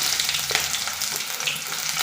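Sliced onion frying in hot oil with popped mustard seeds for a carrot and egg thoran, a dense, even sizzle running throughout with a faint clink of stirring.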